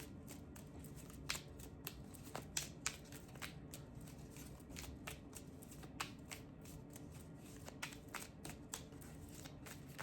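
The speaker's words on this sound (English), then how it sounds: "Just pulling a little more oracle cards." Oracle cards are shuffled and pulled by hand, with a steady papery riffling and scattered sharp flicks and snaps at close range over a low background hum.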